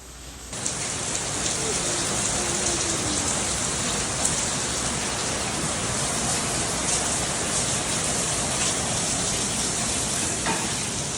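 Steady, dense rain pours down without a break, a loud continuous hiss of drops hitting surfaces close by in cold, wet weather in the Philippines.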